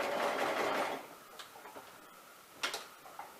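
A sewing machine sews a quarter-inch seam over pins, starting with a steady close whirring run and then giving way to a few scattered ticks and clicks.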